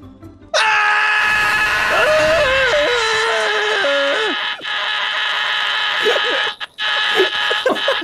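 A man lets out one long, loud scream over TeamSpeak voice chat, its pitch wavering and sliding for about five seconds before breaking off into a few shorter yelps.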